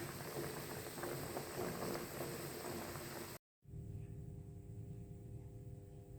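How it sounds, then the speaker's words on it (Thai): Eggs boil in a pot of water on a breakfast stove, a steady bubbling hiss that cuts off briefly partway through and then carries on. "ต้มประมาณ สิบหานาทีนะคะ"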